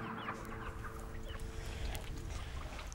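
Many chickens cluck and chatter together in a busy, noisy chorus, fairly faint and continuous, with no one speaking.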